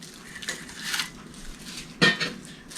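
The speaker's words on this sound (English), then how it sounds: "They nest inside of each other." Metal plates from a Kelly Kettle camping set being handled and nested together, with paper between them; a few light clinks and scrapes, close and fairly quiet, with a sharper clatter near the end.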